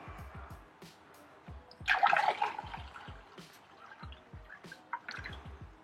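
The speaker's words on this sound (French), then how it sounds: "Je vais me servir mon petit verre d'eau." A small glass of water being poured, with a short gurgling splash of liquid in the middle set against faint dripping sounds and low background quiet.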